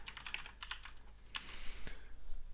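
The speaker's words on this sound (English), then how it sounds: "I'm typing really crappy" Someone types on a computer keyboard at a desk during live software development work. The keystrokes come in quick, irregular clusters of clicks, close and fairly quiet, with no talking.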